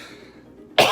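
A single sharp cough, close and loud, from someone choking on chips, bursting out after a near-silent pause at the very end.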